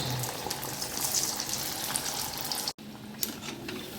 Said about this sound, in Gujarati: એટલે આપણે વડા તળી નાખશું એમાં.